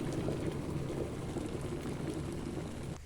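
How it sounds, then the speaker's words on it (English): Hot water boils for a baking soda and aluminum foil cleaning trick, a continuous bubbling hiss and rumble, close and steady, ending abruptly. "While the water is boiling"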